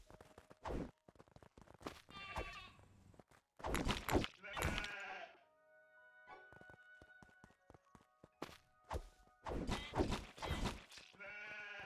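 Sheep in the survival video game Craftopia bleat in short, separate calls between bursts of game sound and footsteps, with quieter gaps in between.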